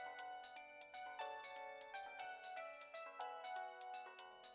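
A cheerful electronic phone ringtone from the Ace Attorney video game plays as a steady melodic loop of bright, bell-like notes, moderately loud with no talking over it.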